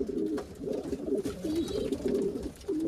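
Pigeons coo from close by in a loft holding dozens of birds, their low throaty calls overlapping in a steady, repeating rhythm with no talking.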